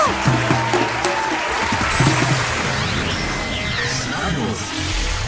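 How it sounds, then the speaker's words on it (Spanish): Applause from an audience at a live concert, a dense wash of clapping with whoops and an announcer's voice over it, continuing steadily throughout. "¡El aplauso!"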